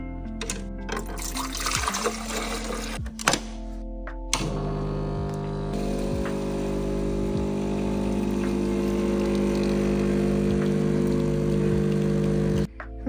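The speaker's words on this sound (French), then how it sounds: "Je me suis fait un petit café à la machine." A coffee machine brews a cup of coffee, its pump droning loudly and steadily with a strong mechanical hum and gurgling liquid, broken by short pauses and clicks.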